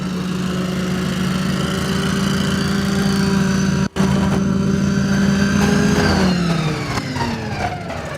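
Walker riding lawn mower running with a steady loud engine drone and a whining tone, ending in a dip in pitch as the engine slows near the end.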